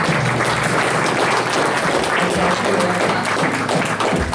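Loud, continuous crowd applause at a Thanksgiving bluegrass jamboree, many hands clapping steadily with a faint hum underneath.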